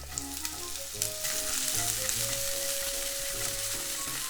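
Chopped scallions fry in oil with garlic in a pan, a loud, continuous close sizzle with occasional stirring, heard under background music.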